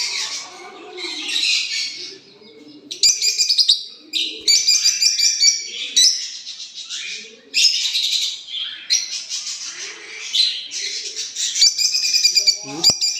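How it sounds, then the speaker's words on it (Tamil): Pet doves coo in low repeated phrases while sparrows and other small birds chirp and tweet in dense bursts. The calls are loud and close, with scattered squawks throughout. "எல்லா புறா குருவி எல்லாம்."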